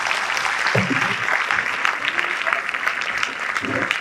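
Audience applause fills a conference hall after the plenary session on reimagining management for a sustainable society, a dense, steady wash of clapping that holds loud and even throughout, with no voices standing out.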